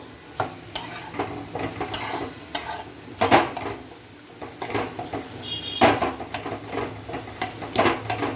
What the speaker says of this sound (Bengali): এটা একটুখানি নাড়িয়ে নিই, মশলাটা মিশিয়ে নিয়ে তারপরে আবার একটু মিষ্টি দেবো।